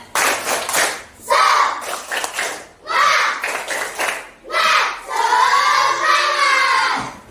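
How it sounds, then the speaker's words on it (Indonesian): A classroom group claps in bursts of rhythmic patterns, mixed with children chanting and cheering together, loud and close. "Kita tambahkan dengan tepuk semangat loh. Tepuk semangat."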